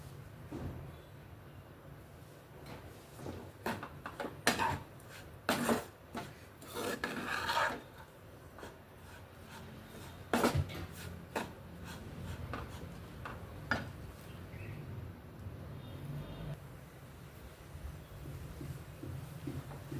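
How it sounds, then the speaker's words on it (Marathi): Mixed flours for panchpith laddu roast in ghee in a pan, stirred with steady rasping, scraping strokes that come in uneven bursts over a low continuous background. "अशा पद्धतीने आपलं पीठ आता भाजत आलेलं आहे."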